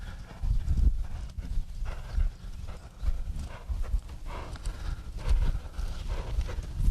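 A horse walking straight toward the listener, its hooves giving a steady, fairly loud clip-clop over a low rumbling background, with no talking.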